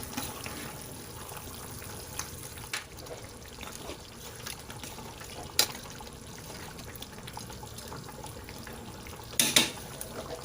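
Chicken biryani being stirred in a pot, a steady soft wet scraping and sizzling churn at moderate level, with a couple of sharper clinks of the spoon against the pot near the end.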